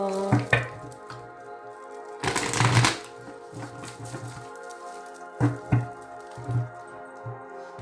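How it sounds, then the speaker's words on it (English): A deck of chakra oracle cards being shuffled by hand, with soft papery riffles and flutters coming in short bursts and one longer, denser shuffle in the middle, close up and with no talking. "One more shuffle."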